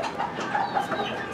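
A small Kikiriki hen in Peru clucks softly several times in quick, uneven bursts, close by against a quiet background.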